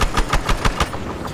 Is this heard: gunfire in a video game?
yes